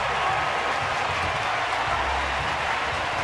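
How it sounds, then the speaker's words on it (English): Baseball crowd in a ballpark applauding and cheering as pitcher Lincecum departs the game, a steady, dense wash of clapping and crowd noise that holds evenly throughout. "listen to this crowd as Lincecum departs"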